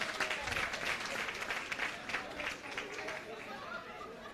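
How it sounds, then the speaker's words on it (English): Applause from the audience at a credit union's annual general meeting greets the prize winners, a steady, moderately distant clapping with some crowd chatter mixed in. "Give yourself a round of applause."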